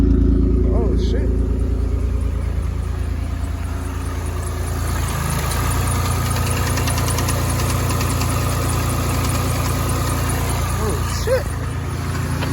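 A 7th-generation Honda Accord engine idles steadily after a PCD install, a low, rumbling, continuous exhaust drone close to the microphone, with voices briefly audible over it.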